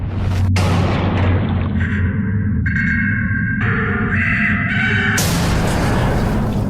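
The Songbird, a gargantuan clockwork steampunk creature in the game Bioshock Infinite, lets out loud, harsh, drawn-out mechanical cries over a heavy rumbling boom, layered tones shifting in pitch and ending in a sudden burst.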